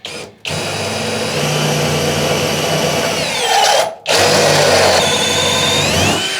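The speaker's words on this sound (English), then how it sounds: "Then I'm going to use this drill, step drill, and just to get the right size, I'm going to put it into one of these holes." A step drill bores a hole in the metal body panel of a Citroën AZU, a loud steady power-tool whine that runs continuously with two short pauses, close to the listener.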